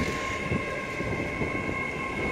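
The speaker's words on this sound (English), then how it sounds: "The next train to arrive here at Doncaster Station is a brand new LNER Azuma, and it's the Flying Scotsman one as well." A brand-new LNER Azuma, unit 800104 in Flying Scotsman livery, arrives at Doncaster station, a steady electric whine and rolling rumble with faint rhythmic clatter, no voices.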